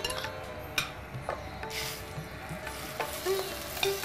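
Rice and whole spices fry in a pan with an even, soft sizzle under repeated scraping stir strokes and occasional clinks of the spoon; fairly quiet and close, with no voices.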